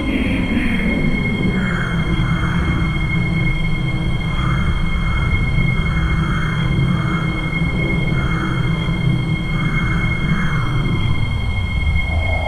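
A 9700 Series train runs in the Roblox Delta Line Project game, with a steady low rumble and rolling wheel noise throughout, plus a faint high tone and periodic swelling whooshes.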